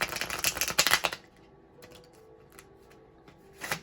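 A new deck of oracle cards being shuffled: a quick burst of riffling and card flapping at the start, a quiet pause with faint handling, then another short riffle near the end, with no talk.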